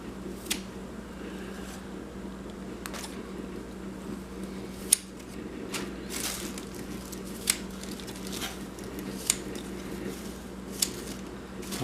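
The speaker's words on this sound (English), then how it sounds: "I'm getting pretty wide cuts and a whole lot of microgreens with each cut" Amaranth microgreens being cut from a growing mat with scissors, making soft, intermittent snips and crisp clicks at a steady, close pace over a constant low fan-like hum.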